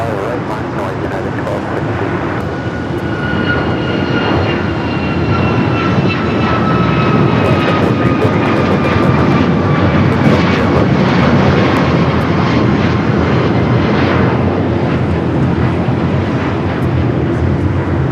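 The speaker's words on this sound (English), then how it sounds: "Alaska flight taking off, heading to Puerto Vallarta." An Alaska Airlines Boeing 737 MAX 9 takes off at LAX, its jet engine roar building into a loud, steady rumble with a rising whine that holds for the whole stretch, with faint radio chatter beneath.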